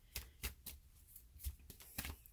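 Affirmation cards being shuffled and drawn during a tarot-style reading: faint, quick papery riffles and taps in an irregular rhythm, close and quiet, with no voice.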